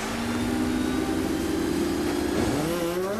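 IndyCar race car engines fire up and build together into a loud, continuous multi-engine roar with a rising whine near the end, no voices present.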